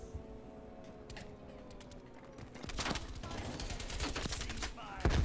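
A teammate fires an AK-47 in the shooter game Call of Duty, rapid automatic bursts of fairly faint, distant cracks that build up in the second half.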